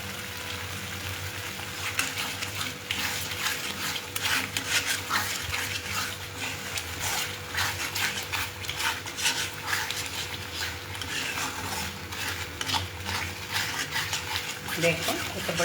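Food frying in a pan being stirred and mixed in a home kitchen, with a steady sizzle under repeated scraping and clinking of a utensil against the pan, continuing evenly throughout.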